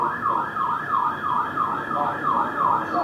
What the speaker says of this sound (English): We're being brought up by the sirens.